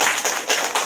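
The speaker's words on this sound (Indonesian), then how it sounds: "Tepuk tangan dong." An audience bursts into brief applause at an Indonesian religious talk, with a few quick, loud rounds of clapping in under a second.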